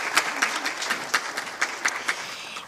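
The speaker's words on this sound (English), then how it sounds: "a big applause to Tonia" A conference audience claps in sustained applause, a dense crackle of many hands with a steady rhythm and no voices on top.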